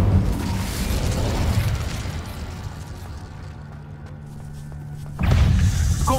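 Incendio fire spell cast in the Hogwarts Legacy game: a low rumbling burst of flame that fades, then a sudden loud whooshing blast near the end, with no voices.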